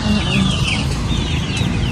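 A hen clucks in short, repeated calls against steady outdoor background noise, fairly close and moderately loud, with no talking.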